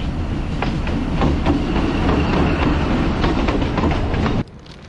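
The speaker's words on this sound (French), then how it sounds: "Les trains ils fonctionnent, les rails fonctionnent." A train runs on rails near Machu Picchu in Peru, its loud steady rumble and clickety-clack of wheels carrying on for several seconds before cutting off abruptly to quiet.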